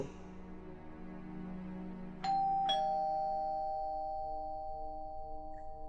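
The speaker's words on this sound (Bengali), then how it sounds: "এমনি সময়ে কলিং বেল বাজলো।" A two-tone ding-dong from a household calling bell, two quick strikes whose clear tone rings on and slowly fades, heard alone and fairly soft in a quiet room.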